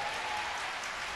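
A church congregation clapping together during a live prayer service, a brief burst of dense, even applause, fairly faint and distant.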